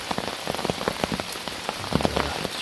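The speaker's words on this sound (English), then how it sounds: "It's been raining for, I don't know, 4 hours or so now." Steady rain patters close on a hammock campsite at Ferne Clyffe State Park near Goreville, Illinois at night, dense drops tapping the surfaces with no voices.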